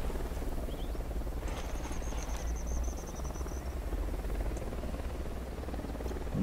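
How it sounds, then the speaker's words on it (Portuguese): Helicopter in Ghost Recon Wildlands, a continuous low rotor thrum heard at moderate distance, steady throughout with faint high chirps of wildlife above it and no talk. "Tem um helicóptero aqui, cara."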